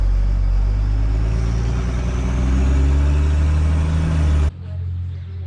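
A stock 2nd gen Cummins 12V diesel truck running nitrous roars in a loud, sustained drone under hard racing throttle, then cuts off abruptly to a quieter idle-like hum near the end.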